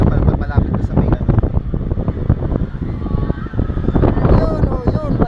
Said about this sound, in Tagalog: Ganyan kalakas ang hangin oh.